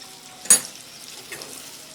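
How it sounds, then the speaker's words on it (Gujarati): Okra and potato curry coated in roasted gram flour being mixed in a pan, one sharp scrape or clink early on over a faint, low sizzle. "હવે આ બધી જ વસ્તુને આપણે મિક્સ કરી દઈશું"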